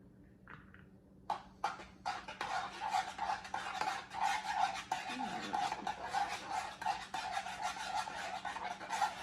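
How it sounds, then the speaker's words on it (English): Salad dressing with mustard stirred in a bowl, giving close, steady scraping and swishing strokes that start after a few light taps and continue without pause, with no talk. "And let's stir this."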